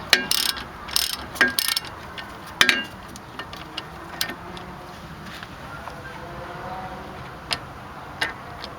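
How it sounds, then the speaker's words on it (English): Wrench ratcheting on a rusted front brake caliper bolt of a 2000 Mazda MPV, a run of sharp metallic clicks and ticks up close, busiest at the start and then scattered and sparse. "you break this bolt loose and the bottom one to get your caliper off"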